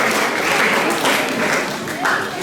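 A seminar audience on religious moderation and tolerance in Kupang claps steadily, a dense, even wash of applause from a large room that swells slightly near the end.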